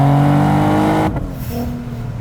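A supercharged Nissan NISMO 370Z with a VQ37 engine accelerates hard in second gear, its loud, rising engine note droning steadily before a sharp gear change breaks it and the revs climb again.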